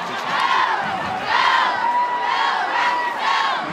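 A crowd at a game yells and screams, with high-pitched girls' voices rising in repeated loud waves of shrieking and whooping, close and dense throughout.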